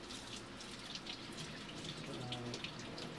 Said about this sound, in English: I'm just going to wash the gut out.